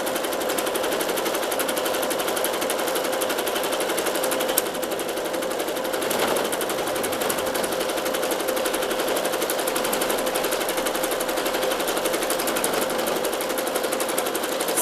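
Sewing machine stitching a decorative zigzag stitch, a loud, fast and steady mechanical rattle that runs without a break and with no talk over it.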